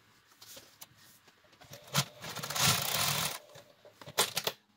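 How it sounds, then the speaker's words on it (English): Quilting sewing machine stitching paper-pieced crazy quilt scraps, a quiet run of stitching with a few light clicks and taps before and after, no talking. "My machine has an auto cut to cut the bobbin and the top thread."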